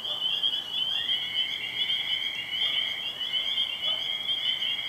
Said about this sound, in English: I think it's some kind of toad.